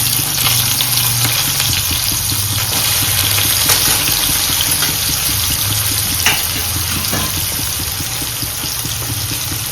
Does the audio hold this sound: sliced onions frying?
yes